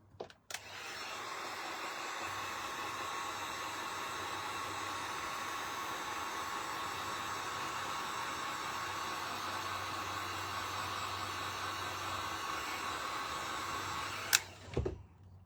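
A hair dryer blows steadily to dry paint on a bunny painting, a close continuous whooshing hum that switches on and runs for several seconds before clicking off.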